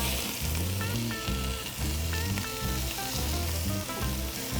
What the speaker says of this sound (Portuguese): Por que a gente sela a carne?